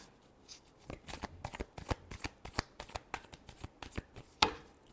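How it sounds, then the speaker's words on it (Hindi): Tarot cards being shuffled by hand, a quick irregular run of soft papery riffles and slaps, close and fairly quiet, with one sharper snap near the end. "last shuffle"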